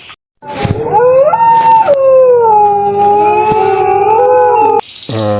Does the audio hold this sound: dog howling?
yes